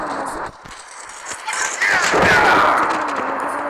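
Gunfire in a video game, bursts of rattling shots mixed with clattering impacts, loud and close, louder in the second half.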